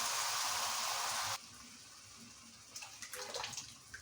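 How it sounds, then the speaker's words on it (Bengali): Cow's milk poured from a container into a spiced lentil-fritter curry gives a steady liquid rush for over a second, then stops, followed by quieter bubbling and sizzling as it cooks in the pan. "এখন আমি এর ভিতর দুধ দিয়ে দিব, গরুর দুধ।"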